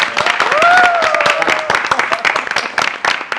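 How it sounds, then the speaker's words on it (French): Clapping from a book-talk audience under a raised French-speaking voice that carries over the top, with hands beating in an uneven, crowded patter. "Applaudissez pour lui."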